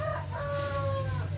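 Hen clucking at her nest of old egg-laying bedding on a backyard farm, a steady close murmur of low clucks with a drawn-out tonal call rising over it, continuous and alone.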